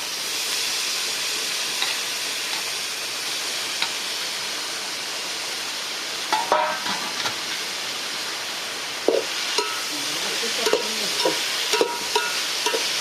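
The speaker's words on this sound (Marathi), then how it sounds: "भितर घातल्या उपरांत मातशें परतून घेवपाचें ताका" Chopped banana flower stir-fried with onion and mustard seeds in a pan, a steady close sizzle and hiss with occasional soft scraping stirs toward the end.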